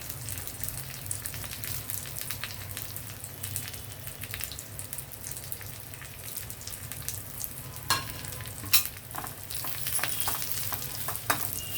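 A tempering with coriander leaves fries and is stirred in a pan for an Andhra chana dal coconut curry, giving a continuous close sizzle with scraping stir strokes and a few louder pops near the end.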